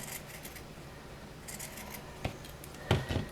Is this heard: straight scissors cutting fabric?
yes